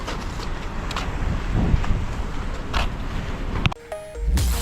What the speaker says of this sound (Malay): Angin sepoi-sepoi.